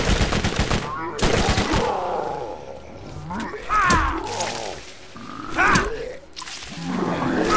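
Bursts of SMG fire in the video game Borderlands, rapid rattling volleys mixed with growls and roars from enemies, loud and busy with a few short pauses between bursts.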